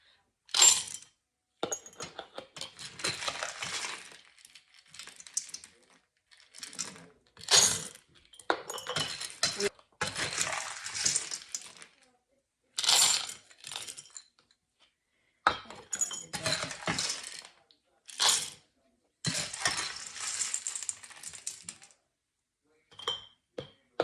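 Dried beans are poured into glass jars, half a cup at a time, giving bursts of bright rattling clinks and patters separated by short silences, repeated many times at close range.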